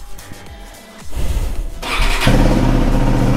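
A KTM RC 390 motorcycle in neglected condition starts up after a few cranks, catching and settling into a loud, steady idle close to the listener.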